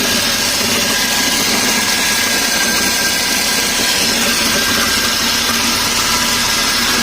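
A Mercedes S300 engine runs with an abnormal noise from the front of the engine, a steady, loud mechanical drone with a high whine and a grinding, rattling texture throughout.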